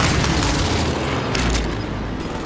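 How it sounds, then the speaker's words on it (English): Airstrike explosions in Call of Duty: Modern Warfare roll together into a loud, continuous rumbling roar with deep booms and crackling blasts, sustained throughout without a break. "Allied precision airstrike"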